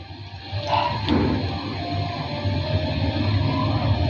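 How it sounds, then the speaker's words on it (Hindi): Water from a glass is poured into a cooking pot while making boli, a steady splashing pour running throughout amid kitchen background noise, with no speech. "ये 1 गिलास मैंने पानी का डाल दिया है"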